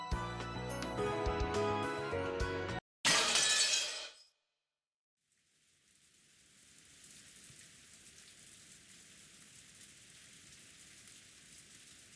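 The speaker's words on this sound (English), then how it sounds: "endless rain continued to fall." Rain in the Umineko visual novel game begins after a burst of music and a crash, then falls as a steady, soft hiss through the second half of the clip.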